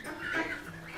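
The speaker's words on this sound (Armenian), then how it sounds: "Սա հավեր կա։" Hens clucking in a short, faint burst with a continuous busy texture, close by and with no talk over it.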